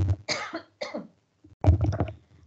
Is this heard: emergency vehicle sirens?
no